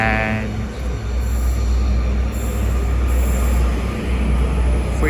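A Class 331 electric multiple unit pulls into Deansgate station, its steady low rumble of wheels and motors filling the platform, with a brief high squeal of wheels early on and faint hiss overhead.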